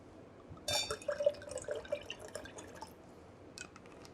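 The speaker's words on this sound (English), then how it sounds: "you're going to take some melon liqueur and put about 2 ounces." Melon liqueur pours into a cocktail shaker with a soft, close trickle and a few drips, about two ounces' worth, running briefly and then tapering off into quiet.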